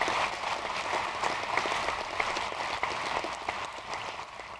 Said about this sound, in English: Let's give Danny Wegman a big round of applause.